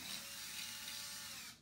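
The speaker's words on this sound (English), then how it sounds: "Drill the four holes in the frame with the number 7 drill bit." A power drill with a number 7 bit bores into a door frame for an overhead door holder install, a steady faint high whir that runs evenly and then cuts off near the end.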